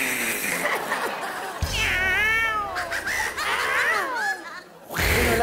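A woman imitates a cat with a string of drawn-out, wavering meows on a TV variety show set, her voice close and loud, with laughter and chatter around the calls.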